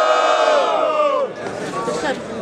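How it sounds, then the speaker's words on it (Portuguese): A crowd at a student rap battle in Guarulhos cheers and shouts loudly in a burst of whoops and yells that fades into lively babble. "barulhos pra quem gostou das rimas do Magno"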